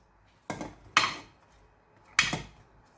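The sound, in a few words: adding onions to turkey in a cooking pot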